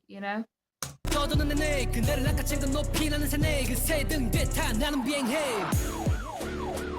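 Sirens in a song, with rising and falling wails layered over loud music and beats, while a person talks over it and reacts.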